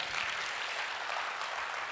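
A church congregation at a revival service claps in praise, a faint, distant, even wash of many hands sustained without pause.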